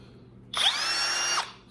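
Harbor Freight Hercules 20-volt cordless drill driver spinning up, a steady motor whine that starts abruptly, holds for under a second with a slight pitch rise, then cuts off; close and loud with no talking.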